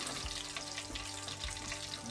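Steak fingers frying in grease for a homemade-gravy meal, a steady close sizzle with small pops and a few soft low knocks, with no talking.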